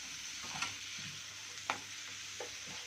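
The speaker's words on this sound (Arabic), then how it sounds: "شوحنا شوية كده" Ingredients for a pasta dish sautéing in a pan, a soft continuous sizzle broken by a few quick scraping stirs of a utensil.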